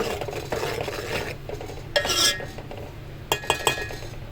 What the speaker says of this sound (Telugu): ఈ వెన్నె అయితే వేడవ్వడం స్టార్ట్ అయిపోయింది. దీన్ని కొంచెం కలుపుకోవాలండి.